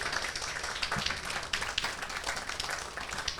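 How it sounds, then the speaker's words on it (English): Wedding guests applaud after a toast in a continuous wash of clapping mixed with room noise, fairly close and even, with no voices standing out. "Big round of applause."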